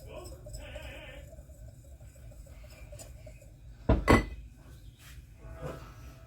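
A wire whisk stirs 140 grams of plain flour in a big bowl, giving soft, close scraping with one brief, sharper metallic clatter against the bowl partway through.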